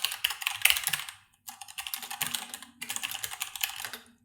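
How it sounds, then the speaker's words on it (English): Close, clear clicking on a computer keyboard comes in three fast bursts of typing separated by short pauses, with no other sound. "My typing is probably too loud"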